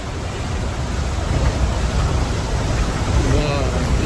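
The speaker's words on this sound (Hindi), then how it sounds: "पीछे देखो कितना सुंदर झरना है।" A waterfall beside the mountain road from Pokhara to Muktinath in Nepal gives a loud, steady, broadband rush of falling water with no break, and a voice can be heard faintly over it.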